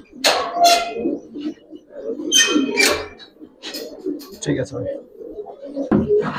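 Giribaz silver pankhi pigeons coo and flutter nearby in a loft, with short bursts of wing and cooing sounds. Someone speaks briefly over them.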